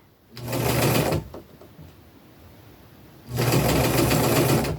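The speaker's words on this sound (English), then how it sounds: "And I'm just going to sew it down." A sewing machine stitches elastic onto shirt fabric in two steady bursts of close, loud whirring, separated by a quieter pause of about two seconds.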